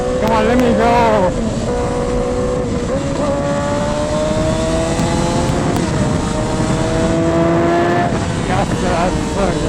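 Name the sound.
Yamaha R6 motorcycle engine revving and downshifting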